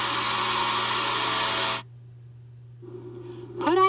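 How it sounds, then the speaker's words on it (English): Hand dryer in a sound-dampened, ultra-filtered no-touch glove washing and drying station in a wafer-fab clean room, blowing as a steady loud whoosh that cuts off abruptly, leaving a quiet hum before faint rustling. "Terra's no-touch hand glove washing and drying station, which includes a sound-dampened ultra-filtered dryer"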